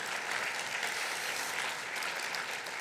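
Applause from the assembly at a church synod, a steady, even clapping that continues without a break throughout, moderately distant and with no voices over it.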